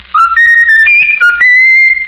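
Raffles, a talking mynah bird, whistles a short tune alone: a string of loud, clear sustained notes stepping up and down in pitch, with brief breaks between phrases.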